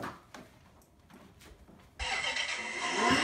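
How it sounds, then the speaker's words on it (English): A pink toy Maserati car switched on, a sudden loud electronic engine sound that starts partway through and keeps rising, after a quieter stretch of faint room noise. "Can you turn that car on again?"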